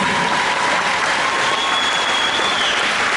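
A crowd at the opening ceremony of a Hazara volleyball tournament in Australia keeps up steady, loud applause for the Melbourne United and Afghan United girls teams, an unbroken roar of clapping with no speech.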